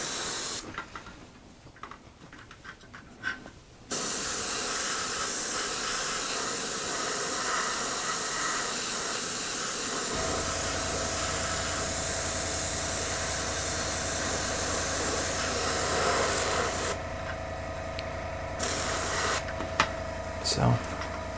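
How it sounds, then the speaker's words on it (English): A spray gun hisses steadily as it lays down primer at 15 psi on a BT-7 tank model, a close, continuous airy rush with brief pauses and a few faint bursts toward the end. "I'm spraying at 15 psi."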